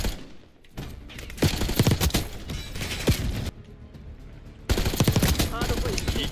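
Rapid automatic gunfire from a scoped gun in Call of Duty Black Ops 6, loud sustained bursts broken by a short lull, with game sounds underneath.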